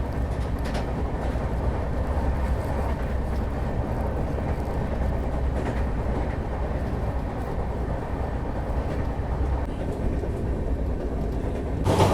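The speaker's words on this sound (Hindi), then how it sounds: "देखिए अराकोनम से डिपार्चर डबल डेकर।" The Chennai-Bangalore double decker express pulls out of Arakkonam as a continuous, fairly loud rumble with faint clatter running steadily throughout.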